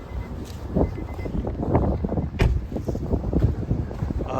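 Gusty wind buffets the microphone outdoors, rumbling low and uneven throughout, with a few brief sharper noises in the distance.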